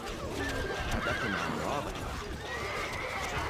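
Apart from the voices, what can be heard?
horses neighing in the video game Stronghold: Crusader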